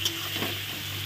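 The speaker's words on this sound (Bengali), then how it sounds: "মশলাটা দেখো ভালো করে কষানো হয়ে গেছে" Spice paste for a fish curry sautéing in a pan, with a steady close sizzle and faint stirring scrapes, no voices.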